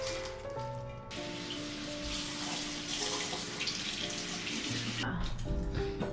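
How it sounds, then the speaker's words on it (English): Tap water runs steadily into a sink as cut flowers are rinsed, a close, continuous splashing hiss that fills the whole stretch, with faint background tones and no voices. "I think we're just gonna give the flowers a quick rinse, cut them up"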